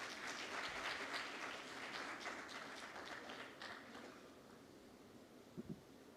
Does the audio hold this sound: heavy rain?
no